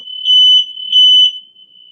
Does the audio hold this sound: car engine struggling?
no